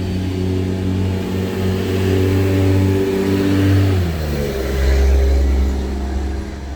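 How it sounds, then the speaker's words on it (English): A big truck rolls past close by with a loud, heavy engine drone whose pitch shifts and drops as it goes by, then it stays rumbling as it moves away. "we got a big truck coming by"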